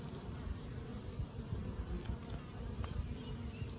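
Honey bees hum at an opened hive during a honey check, with freshly drawn comb on the frames, a low continuous droning buzz close by with faint passing whines and no talk.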